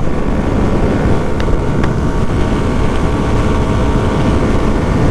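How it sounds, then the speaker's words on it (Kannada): Yamaha R15 V4 motorcycle cruising steadily in sixth gear, a continuous loud roar of engine and rushing wind noise at constant speed with no talk. "ಸೊ ನಾನು ಇವಾಗ ಸಿಕ್ಸ್ಟ್ ಗೇರಲ್ಲಿ ಇದ್ದೀನಿ ಒಂದ್ಸಲ ಪಿಕಪ್ ಎತ್ಕೊಂಡ್ಮೇಲೆ ಆರಾಮಾಗಿ ಹೋಗ್ಬಿಡುತ್ತೆ"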